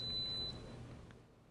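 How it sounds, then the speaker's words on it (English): A low battery alarm from a Victron GX device in a van power system: a thin, high electronic beep tone held for about half a second, then fading over a low background hum. "that's a low battery alarm that you can set up on the GX device from either one of these battery monitors"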